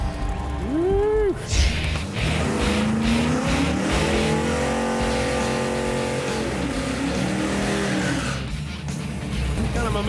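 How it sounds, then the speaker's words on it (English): A 1990 Ford Mustang GT at a Pass Time event does a medium burnout, its engine revving hard under a long steady tire squeal, with crowd noise and voices around it. "Kind of a medium burnout."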